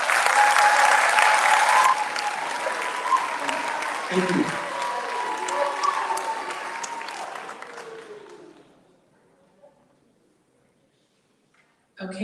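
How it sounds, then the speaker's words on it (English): An audience at an awards night breaks into sustained applause that fills the room, then thins and fades into near silence, with a brief thank-you spoken over the clapping. "So if we could also clap it up for Mr."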